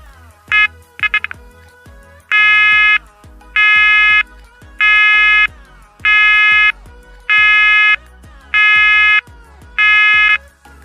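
Banshee Excel fire alarm sounder sounding an alternating tone, loud steady bursts with a tonal pulse, beginning with a few short chirps and then settling into a regular pattern of long on-off blasts, alone and close.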